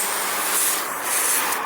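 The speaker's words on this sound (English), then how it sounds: "Spraying water now." Water spraying onto a ceramic-coated 2024 Ford F-150 truck during a wash, a steady, close, loud hiss of spray with no pauses over its short duration.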